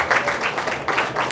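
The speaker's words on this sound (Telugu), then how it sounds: "చప్పట్లు కూడా కనపరచండి" A church congregation clapping during Sunday worship, a brief burst of rhythmic group applause in quick repeated pulses.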